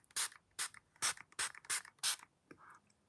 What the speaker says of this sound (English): I'm going to go in with this spray.